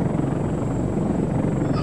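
A helicopter in the military game Arma 3 drones without a break, its rotor chop and engine hum loud and close throughout, and no one speaks over it.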